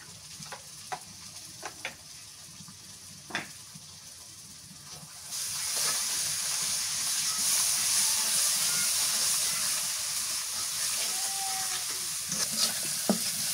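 Ground mustard, coriander, garlic and onion paste frying in a pan, a few scattered spatula taps at first, then a loud sustained hiss as the paste sizzles steadily close by, with occasional clinks near the end.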